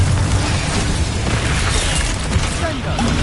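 A Confringo spell blast in the video game Hogwarts Legacy, a loud, dense burst of explosive noise that fills the whole moment with rumbling low boom and crackle.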